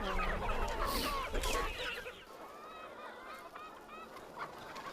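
A large flock of farm chickens, around six thousand birds fed live insect larvae, cluck and squawk at a moderate distance, busy and overlapping at first and then thinning to scattered calls.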